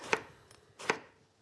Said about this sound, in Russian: И возьму, просто нарежу его ножом.